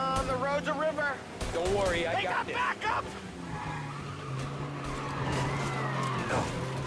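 A car in Mafia Definitive Edition drives and skids, its tires squealing in wavering, pitch-sliding bursts over a steady engine hum, with someone talking over much of it.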